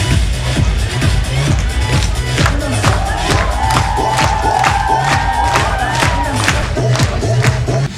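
An audience in a hall cheers loudly and claps for competing teams at a KVN-style comedy contest, with sustained shouting, whoops and a roaring crowd, plus rhythmic thumping beats pulsing underneath throughout.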